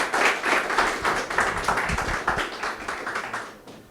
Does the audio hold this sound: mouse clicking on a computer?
no